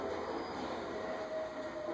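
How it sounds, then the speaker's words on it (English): A train rumbles steadily in the racing video game Need for Speed: The Run, a dense continuous roar with a faint high whine running through it, loud and without voices. "There's a train coming."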